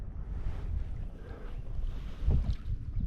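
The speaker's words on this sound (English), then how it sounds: "The wind's pushing me to the shallow spots" Steady wind buffeting a microphone on a kayak while fishing for northern pike, a continuous low rumble with gusts and faint water movement, no talking.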